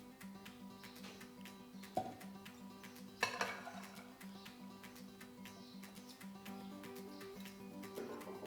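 Spinach pakora batter being mixed with gram flour in a bowl, with clinks and scrapes of a spoon against the dish, a sharper clatter partway through and soft steady stirring throughout, fairly quiet with no talk.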